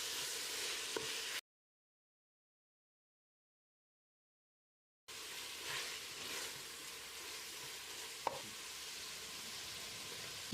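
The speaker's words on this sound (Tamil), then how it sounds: "1 கைப்பிடி அளவுக்கு புதினா இலை, அதில் பாதி அளவுக்கு மல்லி இலையும் சேர்த்து வதக்கிடலாம்" Mint and coriander leaves sauté in oil for mutton biryani, a soft, even frying hiss with a few light spoon clicks, interrupted by a few seconds of dead silence before the sizzle resumes.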